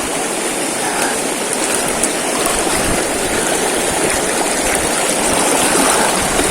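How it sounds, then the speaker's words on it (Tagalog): A strong river current rushes loudly and steadily close by on a hike toward a waterfall in General Nakar, Quezon, a dense continuous roar with no voices. "Malakas ang agos."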